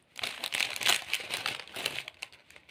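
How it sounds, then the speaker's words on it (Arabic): A plastic packet of Marbella instant noodles is torn open and shaken out by hand, producing a close run of crinkling, rustling bursts that rise and fall irregularly, with no talking. "خلينا نفتح الاول كده ماربيلا ونفضيه"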